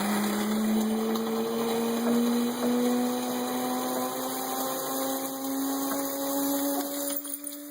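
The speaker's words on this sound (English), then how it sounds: "The coffee maker? Coffee maker?" A coffee maker runs with a steady, whining motor hum that holds one pitch and slowly rises, along with a continuous mechanical drone. The sound stays close and fairly loud for the whole stretch, and no one speaks.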